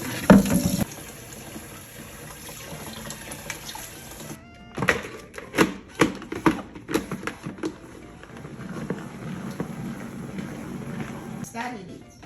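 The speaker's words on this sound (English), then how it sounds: "And then I'm going to rinse it out in cold water." Cold tap water runs while food is rinsed in the kitchen, a steady gushing stream at the start followed by splashing, clattering handling noises and continued flow, with no talk.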